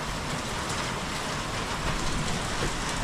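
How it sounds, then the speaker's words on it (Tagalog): Steady rain falls under an overcast sky, a dense continuous wash of drops that stays even and fairly loud for the whole stretch, with no voices. "Ulimlim at umuulan."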